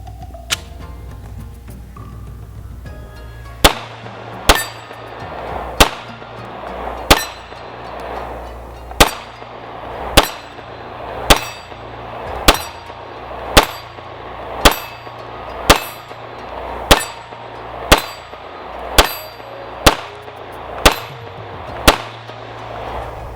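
A SAR Arms B6P compact 9mm pistol fires about sixteen evenly paced, sharp shots in steady succession, each crack followed by a short decay, after a few seconds of quieter handling noise at the start.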